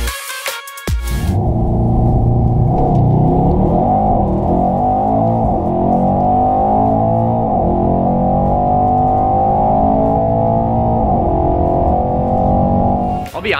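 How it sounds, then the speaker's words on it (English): Mercedes E63 AMG S launching hard, its engine revving and pulling up through rising gear sweeps with loud, slightly distorted playback, continuous for about twelve seconds. "So I just found this video on YouTube of an E63 AMGS launching."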